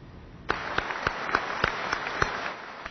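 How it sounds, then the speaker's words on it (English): Hundreds of Electric Boat workers in Rhode Island applaud. Sharp claps land in a steady, evenly spaced rhythm, about three per second, over a light background. "Hundreds of Electric Boat workers applaud, knowing they will likely be employed a good long time"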